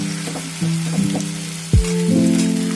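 Cabbage, carrot and onion-stalk batter sizzles steadily in an oiled pan on a low gas flame, a continuous close frying hiss with a few soft bumps and one sharp knock partway through.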